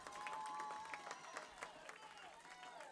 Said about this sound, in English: The softball girls are here after their game against Nicky Rowe, cheering on the team, making noise with some cowbells.